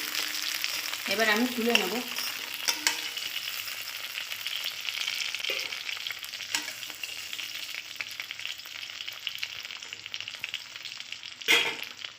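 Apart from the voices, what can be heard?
kuche fish (eel) frying in oil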